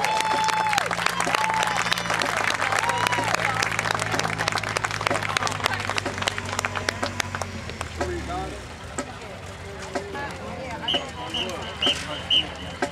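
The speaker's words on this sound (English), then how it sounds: "another round of applause." Outdoor band festival crowd applauds a high school marching band, a steady wash of clapping with sustained band tones underneath that cut off midway, leaving thinner clapping, cheers and chatter.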